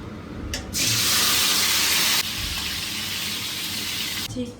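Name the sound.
tomatoes added to hot oil in a kadai, sizzling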